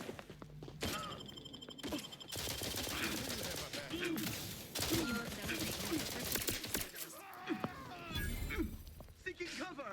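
Bursts of gunfire in The Outer Worlds 2 during a fight with a sniper on the field, rapid cracking shots coming in clusters at moderate distance, mixed with talking voices.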